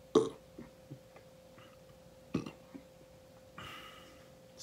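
A man lets out two short, low belches a couple of seconds apart, fairly quiet against a faint background hum, with a softer throaty sound near the end.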